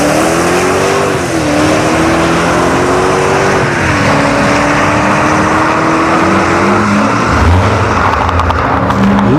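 A Mercedes CLK 550 roars down a drag strip at a test-and-tune night, its engine note climbing through gear changes, loud and continuous over constant crowd and track background.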